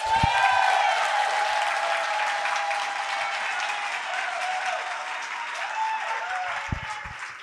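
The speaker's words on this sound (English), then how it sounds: "please give her a round of applause" Steady applause from a sizable audience, a dense wash of clapping that stays loud throughout with a few brief calls near the end.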